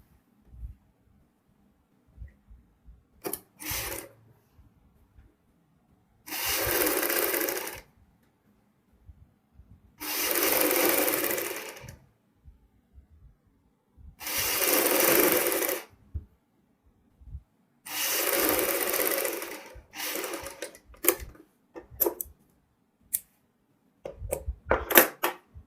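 A sewing machine stitching a folded fabric edge for a V-neck garment: four bursts of rapid motor-driven clatter, each about two seconds long, separated by pauses with small ticks and handling clicks, close by and with no talk.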